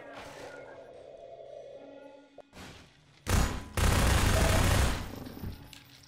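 Loud automatic gunfire in Half-Life 2, starting with a few short bursts and then a long sustained burst of rapid fire that cuts off suddenly, up close and with no talking over it.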